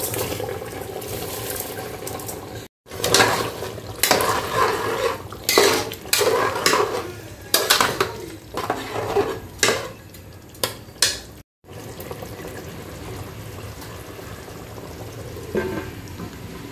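Rice being tipped into a pot of cooked mutton for mutton pulao and stirred in: repeated clattering scrapes and clinks of a spoon against the pot, in uneven bursts with two brief silent gaps.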